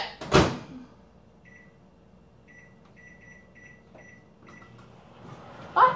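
A microwave oven cooking blueberry streusel coffee cake: a door thump, a series of short electronic beeps from the keypad, then a low steady hum as it runs, ending with another clunk.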